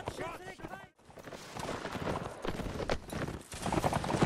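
Cavalry horse hooves clop rapidly in a quick running rhythm, with a brief horse whinny at the start and a busy Napoleonic Wars game battle soundscape around them.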